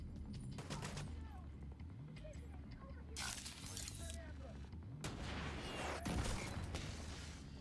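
Video game combat with gunfire and RPG launches, booming shots and clattering bursts layered over a constant low rumble, with someone speaking over the action.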